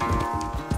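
A horse gallops in the video game Red Dead Redemption 2, rapid rhythmic hoofbeats thudding close and steady over a low game soundscape.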